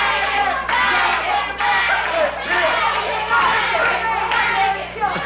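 A wrestling arena crowd jeers a wrestler at a 1987 CWA Championship Wrestling event. The dense, loud roar swells in repeated waves, with a commentator's voice over it.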